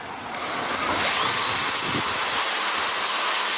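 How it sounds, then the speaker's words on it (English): A power drill runs steadily, boring holes in a panel of a VW T5 camper van, with a continuous high whine close to the microphone. "where I'm going to drill the holes for that"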